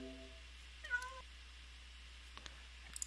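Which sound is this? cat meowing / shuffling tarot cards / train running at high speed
cat meowing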